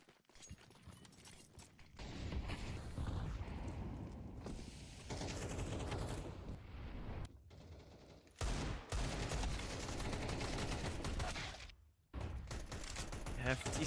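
Gunfire sprays in a professional Counter-Strike match, with rapid bursts of automatic fire, footsteps and game noise running under steady commentary, broken by a few brief cuts to near silence.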